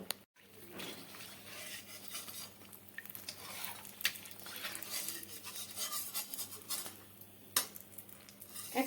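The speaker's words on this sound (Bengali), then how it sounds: "একটা ছান্তার সাহায্যে তুলে নেব" Fried chhana langcha being lifted out of hot oil with a metal spatula, light frying sizzle under scattered scrapes and clinks against the pan, with a couple of sharper knocks.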